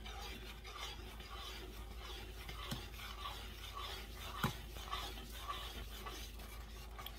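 A thick chocolate raspberry jam sauce is stirred in a pot on a back stovetop burner, making a continuous soft scraping and rubbing with a few light knocks against the pot, all under a low steady hum.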